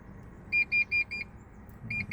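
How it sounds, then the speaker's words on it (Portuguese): Warning buzzer in a Renault Megane 2 instrument cluster under test sounds four short electronic beeps in an even rhythm, a pause, then a fifth beep, clear over a low background hum. "vocês vão ouvir aquele bip."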